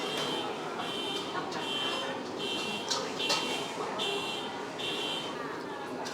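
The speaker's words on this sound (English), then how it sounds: "Somebody's alarm keeps going off." A steady electronic alarm tone pulses on and off repeatedly over busy street noise, with voices murmuring in the background.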